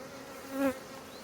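A low, steady buzz of honey bees on a hive frame hums throughout, swelling briefly in the middle into a louder, nearer drone like bees crowding close.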